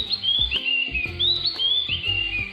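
A songbird sings clear, sweeping whistled phrases over and over, close and bright, with no talking. It is a mimicking songbird, heard singing from bushes in the monsoon season.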